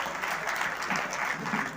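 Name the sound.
audience applause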